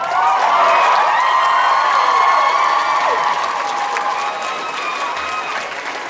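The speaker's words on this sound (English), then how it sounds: "watch his reaction, thunderous applause" A crowd at a Bellerose bike-a-thon event breaks into loud, sustained applause and cheering, steady clapping filling the scene for several seconds before easing slightly toward the end.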